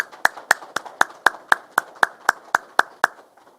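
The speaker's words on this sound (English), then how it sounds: "Let us give the graduating class a round of applause." A police academy graduating class in Detroit gets a steady, evenly spaced round of clapping, about a dozen sharp claps at a regular rhythm, close and clear, fading slightly at the end.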